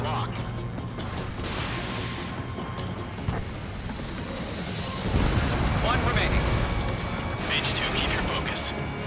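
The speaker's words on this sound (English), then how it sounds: "The harbor is under heavy fire!" Heavy artillery fire and explosions pound a harbor in the flight combat game Ace Combat 7, a dense, continuous rumble of blasts that swells louder partway through, with radio voices talking over it.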